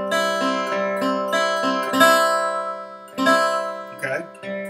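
A guitar plays a beginner music-reading exercise at a fast tempo: quick, evenly spaced plucked notes with clear ringing harmonics, close and fairly loud, with a short gap before a final phrase and no talking.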